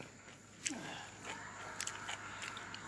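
Kola nut being chewed, giving irregular crunchy bites and cracks at close range over a soft background hiss.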